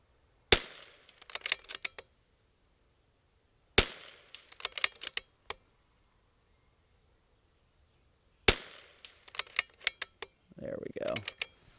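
Rimfire rifle, a Bergara B14R or CZ 457, firing three sharp, close single shots a few seconds apart, each followed by metallic clicks of the bolt cycling, with a short burst of talk near the end.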